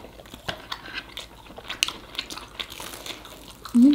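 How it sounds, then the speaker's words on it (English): Crunchy fast-food egg rolls being bitten and chewed close up, a run of crisp irregular crunches with little else. "We're going for the egg rolls now"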